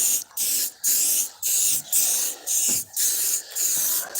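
Bursts of spray paint hiss from an aerosol can, eight steady sprays each about a third of a second long with short gaps between, close and loud.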